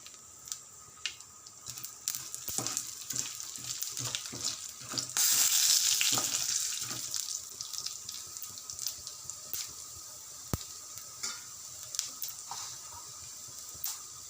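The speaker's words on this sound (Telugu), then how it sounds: "అదే ఆయిల్లో జీలకర్ర ఆవాలు శనగపప్పు మినపప్పు వేసి లైట్గా ఫ్రై చేయాలండి" Cumin, mustard seeds, chana dal and urad dal frying lightly in oil for bitter gourd curry, a steady close sizzle with scattered pops and crackles that briefly swell louder midway, no talking.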